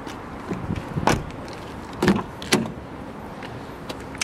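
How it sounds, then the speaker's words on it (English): Electric folding door mirrors on a Nissan Qashqai 1.3 DIG-T Acenta Premium SUV operate in a few short mechanical whirs and clunks, close and fairly quiet against a low background hum. "Car has electric and folding mirrors."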